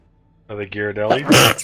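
A person sneezes during a Dungeons and Dragons session: one short, sharp, loud burst comes right after a brief spoken question, close up.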